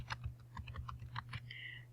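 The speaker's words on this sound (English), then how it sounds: "So you just click once and start typing." Light typing on a computer keyboard at a desk, a quick uneven run of soft key clicks over a steady low electrical hum, quiet and close.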